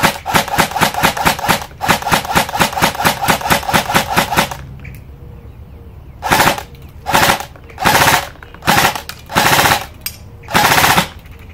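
An airsoft gun running on a fully charged 11.1 volt battery in the stock fires a long rapid full-auto burst, then a string of six short bursts separated by pauses, loud and close with no talk.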